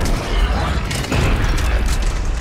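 Heavy explosion in Mass Effect 3 during a siege battle on Thessia, a loud, dense low rumble that roars on for the whole stretch with a swell near the middle and no clear break.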